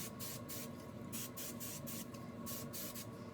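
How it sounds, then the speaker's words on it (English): Hairspray sprayed in a series of short hissing bursts over a section of styled, curled hair, about six quick pulses in a row, close and steady, with no talking. "And then I'm going to hairspray that section."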